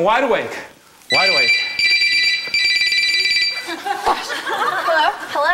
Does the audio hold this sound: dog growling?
no